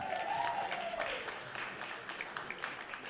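Audience at a live tribute show applauding and cheering after the host is introduced, steady clapping with a few whoops and a whistle, fairly distant and moderately loud.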